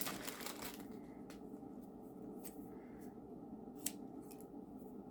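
Scissors snip through a diamond painting label sticker close up, giving a sharp opening crunch followed by several quiet, separate cuts spaced out over a few seconds in an otherwise hushed room.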